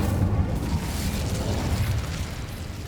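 An Incendio fire spell explosion in Hogwarts Legacy, a loud, dense, rumbling burst that roars steadily for a few seconds with no speech.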